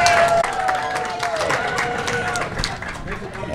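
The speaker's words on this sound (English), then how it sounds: "Give yourselves a round of applause." An audience at a governing board meeting claps and cheers, a dense patter of applause with a murmur of voices and a thin tone fading out early on.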